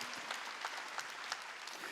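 Church congregation clapping, a faint, brief patter of many hands heard from a distance, steady and even with no voices.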